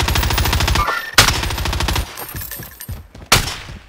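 Rapid automatic gunfire from Call of Duty Warzone battle royale gameplay: loud, dense bursts of machine-gun fire that pause briefly, followed by scattered single shots and another sharp burst near the end.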